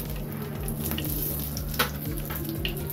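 Bay leaf, dried red chilli, small cardamom and sugar frying in oil give a continuous soft sizzle, with light stirring scrapes and a faint utensil knock partway through.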